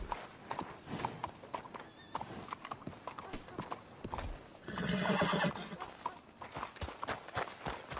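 Horse hooves clip-clop steadily in the video game Red Dead Redemption 2, close and clear, with a loud neigh and whinny rising midway over the walking rhythm.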